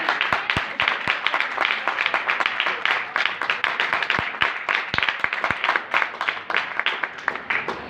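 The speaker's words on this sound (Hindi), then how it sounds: "यहोवा के लिए एक बार जोरदार तालियां" A small gathering at a mehendi wedding celebration claps steadily. The individual hand claps are sharp and distinct, forming an uneven, close, moderately loud round of applause that lasts several seconds.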